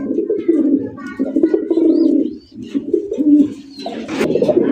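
A male Raj pigeon at a pigeon sale coos in close, loud, repeated rolling bursts, with a brief lull midway before the cooing resumes.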